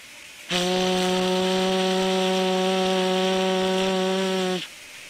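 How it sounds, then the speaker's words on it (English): A WP class steam locomotive whistle blasts once, a loud, steady harmonic tone held for about four seconds before cutting off abruptly, with no voices. "Sounding of a whistle from a steam locomotive."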